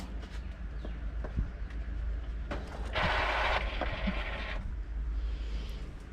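An Epson L121 inkjet printer printing on sublimation paper whirs and clicks as it runs, its carriage buzzing in a louder stretch mid-way, with mechanical ticks and low background hum.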